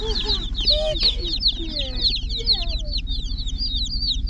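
Newly brought-home farm chicks chirping in rapid, high repeated peeps, a busy overlapping chorus heard close over a low background rumble, with a voice briefly in the mix.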